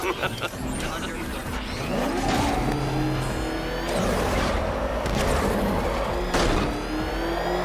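In Batman Arkham Knight, a vehicle engine revs and roars with rising and falling pitch while a voice talks over it.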